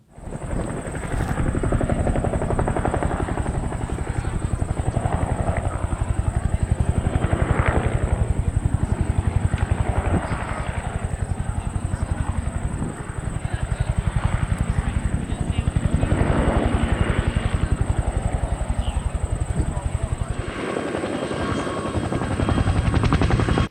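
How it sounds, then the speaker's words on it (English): A Huey helicopter maneuvering overhead at an airport air fair, its loud, steady rotor thump and engine drone continuous throughout, swelling slightly and fading as it moves across the sky. "way up in the sky, the Huey was making some pretty cool looking maneuvers"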